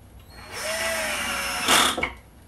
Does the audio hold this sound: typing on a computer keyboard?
no